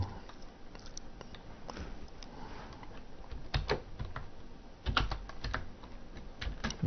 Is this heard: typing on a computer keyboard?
yes